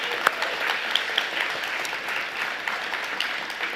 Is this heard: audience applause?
yes